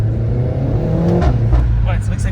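A Renault Mégane 4 RS 280 in race mode revs hard up close, its engine note climbing in pitch over a couple of seconds with a throaty roar, while voices talk over it.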